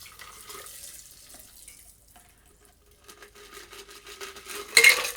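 A gin cocktail made with orange and cacao gin is strained into a 16-ounce highball glass packed with ice: a soft trickle of liquid pouring, light clinks, and a louder rattle of ice near the end, close and quiet.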